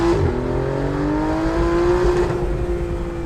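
An Aston Martin Vanquish Zagato Shooting Brake with a V12 engine launches from low revs around 2,000 rpm, its loud, close engine note climbing steadily for about three seconds.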